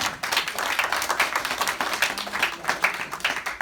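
A church congregation claps during a sermon, a moderate, fairly rhythmic patter of many hands with some voices underneath.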